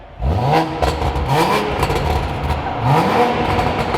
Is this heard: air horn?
no